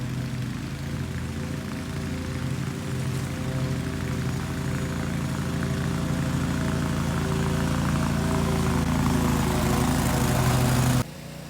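A Ferris Z1 48-inch stand-on lawn mower runs steadily out in the field, its engine drone close and loud and holding even for about eleven seconds before cutting off abruptly near the end.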